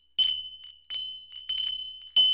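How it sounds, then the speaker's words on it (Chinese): Strange bell ringing from deep inside a stone pillar tower: four bright, clear metallic strikes in an even rhythm, each ringing out briefly before the next, alone and fairly close. "一阵奇怪的铃声从石柱塔的深处传了出来。"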